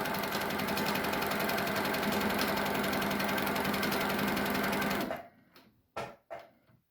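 An HQ Sweet Sixteen sewing machine runs at speed while free-motion quilting feather borders, a loud, rapid, steady mechanical rattle for about five seconds that then stops, followed by a few quieter clunks.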